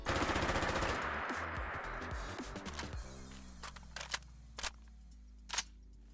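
Rapid automatic fire from a Remington ACR rifle in the game Fallout 4, a loud quick burst lasting a few seconds, then a series of sharp mechanical clicks and clacks of a magazine reload.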